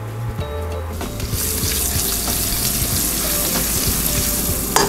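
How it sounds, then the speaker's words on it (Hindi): Green chillies hit hot oil with frying garlic in a pan for Punjabi kadhi, a loud, steady sizzle that flares up and holds throughout, with a few clinks of a utensil and no talk. "देखिए उससे पहले डालते हैं इसमें हम थोड़ी सी हरी मिर्च,"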